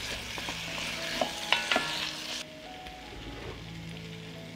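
Potatoes are stirred as they fry in a pot with paprika, giving a loud crackling sizzle with spoon scrapes that suddenly drops to a quieter, duller simmer partway through.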